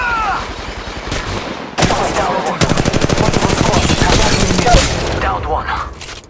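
Rapid bursts of automatic gunfire and single shots from the Apex Legends Mobile battle royale game, loud and dense through most of the clip, with brief gaps and game effects around them.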